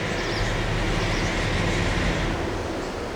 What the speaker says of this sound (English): There's a train passing by.